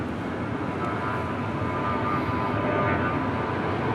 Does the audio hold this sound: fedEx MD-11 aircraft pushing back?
yes